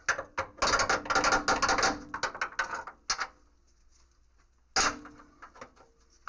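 A bolt is fitted into its hole during a coil spring replacement, giving a burst of metallic clicking, ratcheting and rattling that stops, then returns as a brief second clatter.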